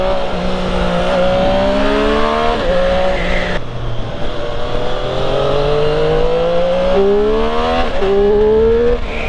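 Motorcycle engine revving hard through the power band, loud and close, rising in repeated climbs with gear changes and brief drops between pulls, no talking.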